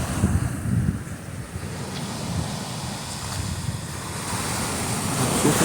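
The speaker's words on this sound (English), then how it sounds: "shore breakers" Ocean waves breaking on the shore beside Redondo Pier, a steady broadband wash of surf rolling in one after another with gusts of wind noise across the microphone, no voices.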